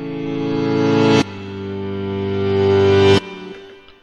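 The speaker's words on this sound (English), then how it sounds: "So right now the piano sounds like this." Reversed piano chords in FL Studio, each swelling steadily louder and cutting off sharply at its peak, two long swells followed by a shorter fading tail.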